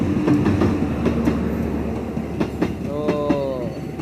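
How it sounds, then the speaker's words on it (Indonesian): A train runs past nearby with loud rolling rumble and clattering wheel beats, joined by a brief squealing or horn-like tone near the end; no one speaks. "Tuh, kereta api lagi tuh."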